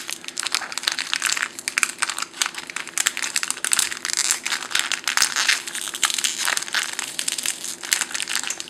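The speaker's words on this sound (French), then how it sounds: "je vais enlever le scotch ici aussi et on va pouvoir commencer" Adhesive tape peeled off Pokémon card booster packs gives a close, steady run of crackling and crinkling plastic with sharp little snaps, continuing throughout with no talk.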